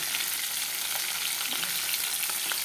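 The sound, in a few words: muri ghonto (fish-head rice dish) being cooked in a pan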